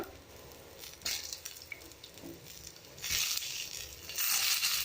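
Ridge gourd pieces and chopped tomato hit a pan of hot tempering and fry with a steady sizzle, the hiss swelling louder in bursts as the vegetables are added and stirred.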